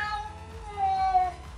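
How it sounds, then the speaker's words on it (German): A male cat meows in a hobby room, a drawn-out, close and fairly loud call with a rising-then-falling tone, heard alone. "Das, was ihr da hört, ist unser Kater."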